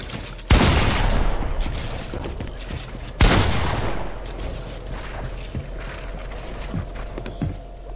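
Video game gunfire with loud shotgun blasts, two sharp booming shots followed by a dense rattle of firing and echoing reports, close and continuous.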